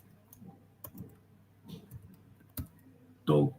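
Computer keyboard typing in a few light clicks and short bursts spread over a few seconds, ending in a louder cluster of keystrokes, close and fairly quiet with no talking.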